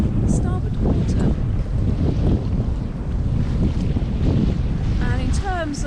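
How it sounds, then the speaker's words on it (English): Strong wind buffets a sailboat and the microphone, a loud steady roar with gusts and some water wash; a voice is briefly audible near the end. "I'm having to do a voice over due to the noise of the wind."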